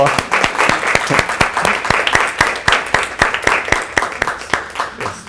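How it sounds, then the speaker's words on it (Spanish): Audience applause for participants at a gender studies performance event, a dense crowd of hands clapping steadily and loudly throughout, with sharp individual claps standing out above the wash. "quiero pedir un aplauso grande para todos los que participaron"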